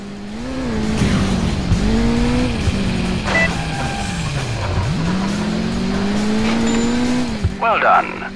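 A car in the Crash Time 2 driving game is steered through a fence off-road. The engine revs with wavering pitch and tires squeal throughout, and a short burst of noisy impact clatter comes near the end.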